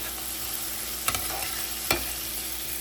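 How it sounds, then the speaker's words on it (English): Onions with minced jarred garlic sauteing in a pan, giving a steady bright sizzle throughout with two sharp stirring clatters partway through. "so these are sauteing nicely"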